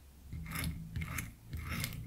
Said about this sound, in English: They've got a nice little shuffle sound on the plate.